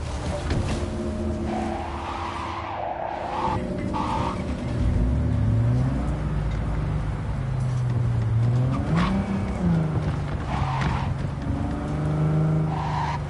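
A car in Cyberpunk 2077 drives under a loud, steady engine drone that rises and falls in pitch as it shifts and revs, with brief tire squeals, and no one speaks.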